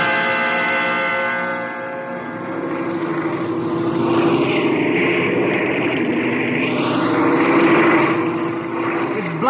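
Propeller airplane in flight in an old radio drama: a loud, continuous engine drone with rising and falling whine holds throughout, alone without talk.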